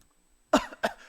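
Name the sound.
throat clearing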